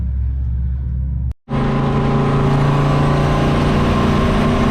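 A turbocharged 1951 Chevy race truck engine drones loudly at close range, cutting out for a split second during a shift and then holding a steady, strong tone under boost.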